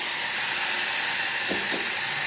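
Asafoetida frying in hot oil as a tempering for dal, a steady bright sizzle that holds unbroken throughout, close and loud, with a couple of faint soft clinks partway through.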